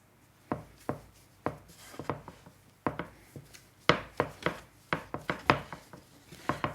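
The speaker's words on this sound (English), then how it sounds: "now what I'm going to do is turn it out and knead it for just a few minutes" Pan de muertos sweetbread dough kneaded on a work surface, a series of dull thuds and slaps in an uneven rhythm, close and moderately loud with quiet pauses between pushes.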